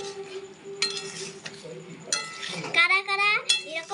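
A spoon clinks and scrapes against a metal pan while potato and pointed gourd curry with a little water is stirred, giving close, irregular metallic taps with a soft sizzle beneath and a voice speaking.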